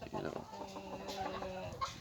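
Siberian Fawl chickens, an old Russian breed, cluck close by in a steady run of throaty, rising calls that overlap one another, with a faint voice in the background.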